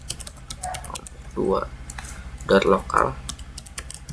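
Typing on a computer keyboard while setting up an Ubuntu server, a steady patter of key clicks running throughout, with a person speaking briefly over it in a few short bursts.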